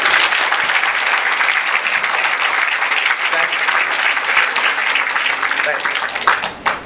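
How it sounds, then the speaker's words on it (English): Loud, sustained applause from a large crowd, steady and dense throughout, tapering slightly at the very end. "Please give a big clap."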